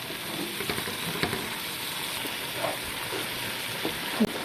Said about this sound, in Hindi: ये जो हमारा टमाटर था ये भी फ्राई हो चुका है तकरीबन